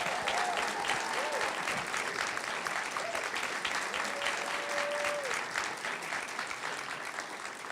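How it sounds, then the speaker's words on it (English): Audience applause for the top 10 poets at DC's 12th annual Poetry Out Loud recitation contest: a dense, sustained wash of clapping from a full room, steady for several seconds and fading slightly toward the end, with a few faint whistles over it. "Please give them a round of applause."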